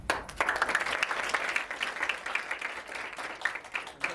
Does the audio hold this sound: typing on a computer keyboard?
no